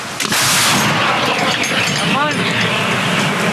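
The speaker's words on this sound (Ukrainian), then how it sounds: "Постріл!" An artillery gun fires with a loud, close blast, followed by a long roaring rumble that slowly fades, with voices underneath.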